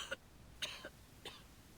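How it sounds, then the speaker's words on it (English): A video game character in Reverse 1999 coughs and splutters: three short, rasping coughs spaced about half a second apart, fairly quiet and close, with no other sound around them. "And now I cough and splutter just like it does."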